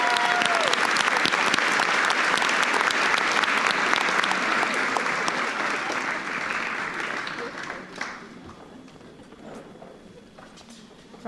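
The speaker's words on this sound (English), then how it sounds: "big round of applause for this group" Audience applause at the Merrifield College 2023 school valedictory, a large crowd clapping loudly and densely, then slowly thinning and fading toward the end, with a brief murmur of voices in the background.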